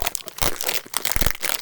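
A wrinkled plastic bag holding a vintage 1960s rubber toy crinkles as it is handled, giving close, loud, irregular bursts of crackling with no talking.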